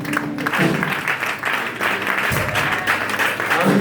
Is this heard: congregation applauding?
yes